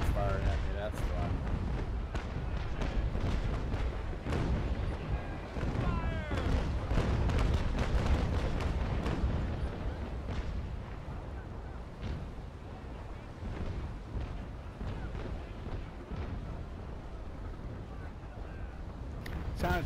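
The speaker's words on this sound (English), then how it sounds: "I got the mortar brigs firing at me." Cannon fire from mortar brigs in the naval combat game Naval Action, a dense run of repeated booms and rumbling blasts with waves around, continuous over the whole stretch, with someone talking throughout.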